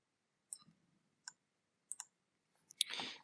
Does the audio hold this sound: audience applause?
no